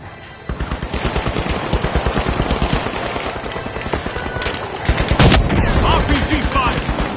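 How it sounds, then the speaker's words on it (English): A firefight in the shooter game The Finals, with rapid, steady bursts of automatic gunfire throughout and a heavier blast partway through, all close and loud. "RPG fire!"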